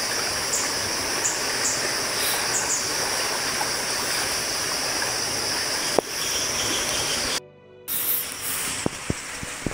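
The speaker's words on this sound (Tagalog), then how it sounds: "Stranded kami dito ngayon. Gawa ng lakas ng ilog." A swollen, flooded river in Isabela rushes loudly and continuously nearby, a broad steady roar with a brief gap and a few clicks near the end.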